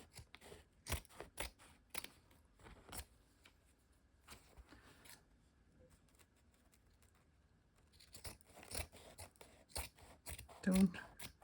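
Scissors snip through fabric for a collage in quick clusters of close, crisp cuts, pausing in the middle before another run of snips resumes, with faint handling noise in between.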